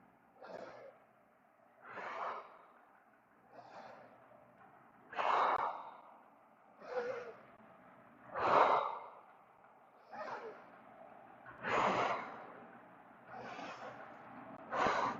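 Deep, audible breaths repeat during a thoracic spine mobility exercise, roughly ten rhythmic inhale-exhale swells about every 1.5 seconds, close and fairly soft with no talk over them.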